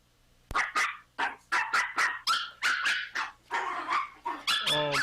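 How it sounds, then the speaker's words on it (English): A Chihuahua barks in a rapid series of sharp, high yaps, about a dozen in five seconds, loud and close, ending in a quick run of excited yips; no one talks over it. "This is a Chihuahua."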